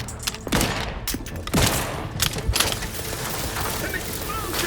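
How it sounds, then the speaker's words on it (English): Explosions and gunfire erupt in the video game The Outer Worlds 2, with several sharp blasts and a burst of shots spread over a few seconds under a steady background din, while voices speak in between. "An explosion!"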